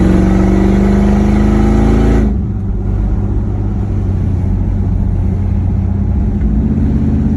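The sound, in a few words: LS-swapped Chevrolet pickup truck driving on the road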